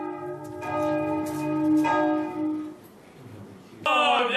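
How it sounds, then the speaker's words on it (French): A town hall bell tolls the tocsin alarm in loud, ringing strikes with long resonant decay, struck again partway through, before a sharp burst of other sound cuts in near the end. "Ça c'est la cloche de la mairie"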